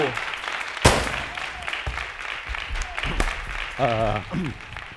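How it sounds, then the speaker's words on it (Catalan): A studio audience on a television entertainment show applauds two performing brothers as they come on. The clapping is dense and broken by sharp knocks and short bursts of cheering and voices. "rebem amb un fortíssim aplaudiment els germans Callau"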